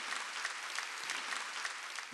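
A church congregation claps during a Wednesday worship service, producing dense, even applause that continues steadily at moderate volume.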